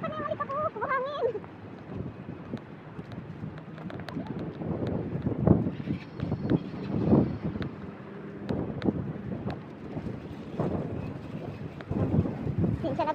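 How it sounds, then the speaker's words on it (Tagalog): Gusty wind buffets the microphone in uneven rumbling bursts, rising and falling throughout, with faint background sounds. "lakas ng hangin"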